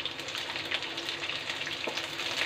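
Garlic frying in a pan over a high flame, an even, moderately quiet crackling sizzle with faint stirring scrapes and no voices.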